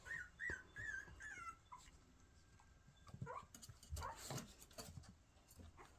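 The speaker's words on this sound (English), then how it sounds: "Mom's gonna have her hands full now with the barking." A dog gives high whimpering yips early on, then sharper barks and scuffling noises follow, fairly faint and close, with no talk over it.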